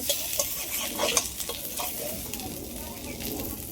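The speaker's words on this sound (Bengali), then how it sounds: "পাতুরিগুলো উল্টে পিল্টে ভালো করে দু সাইড ভালো করে ভেজে নিয়েছি।" Cabbage patoori parcels wrapped in gourd leaves fry in a pan with a steady crackling sizzle, broken by a few sharp spatters and clinks of stirring, heard close with no talk.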